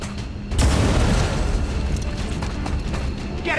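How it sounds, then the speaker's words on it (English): A sharpshooter's pistol shot in XCOM 2, a loud booming report followed by a sustained noisy rumble of game effects and music. "try and finish him off with the pistol"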